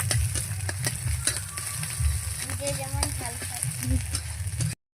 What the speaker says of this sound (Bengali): এই যে এখন ডিমটা ভেজে নিচ্ছি, প্রথমে নুন দিয়ে ভালো করে একটু ভেজে নিচ্ছি